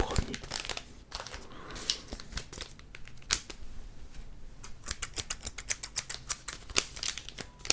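Small scissors snipping open Pokémon gift packaging, a rapid irregular run of sharp close clicks and cuts mixed with crinkling plastic, recorded up close and quiet.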